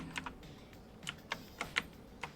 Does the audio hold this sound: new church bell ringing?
no